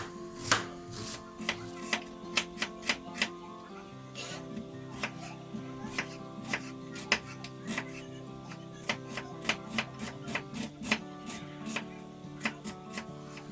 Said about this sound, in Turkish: Hemen soğanımı doğruyorum.